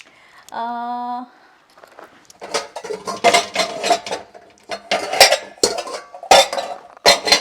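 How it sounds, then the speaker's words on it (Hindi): Pots, dishes and cutlery being taken out for baking banana bread in a home kitchen, giving repeated close, loud clinks and clatters in irregular bursts after a brief steady tone at the start. "ओके, मैं पहले बर्तन निकाल लेती हूँ।"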